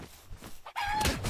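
A chicken in the video game Palworld clucks and squawks, a sharp close cackle with a drawn-out tonal call in the middle, set against light game background sound.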